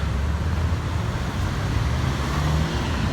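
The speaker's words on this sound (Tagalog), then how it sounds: "kaya nagmumukha na namang traffic dahil ang daming sasakyan" Steady road traffic with many vehicles forms a dense, continuous low rumble of engines and tires, moderately loud and without clear individual passes.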